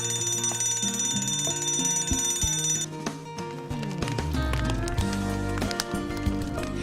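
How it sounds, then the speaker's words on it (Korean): A loud, continuous electronic alarm rings without pause, steady tones layered with shifting pitches, filling the whole stretch as a fire alarm in a factory setting. "화재 경보기를 작동시키세요."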